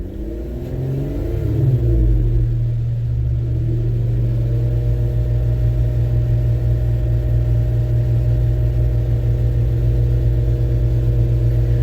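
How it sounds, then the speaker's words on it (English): A vehicle engine is revved to higher RPM to power a winch, climbing over the first two seconds, then holding a loud, steady drone up close, without voices. "I had to bring the RPMs up so that it gave it more juice for the winch"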